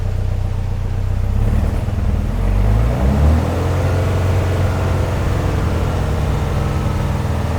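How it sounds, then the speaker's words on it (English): A VW Beetle engine idles with a low, steady rumble, and the throttle is blipped briefly around the middle to produce a short rise in revs before it settles back to a constant hum. "I'm going to blip the throttle here now and see what we get up to."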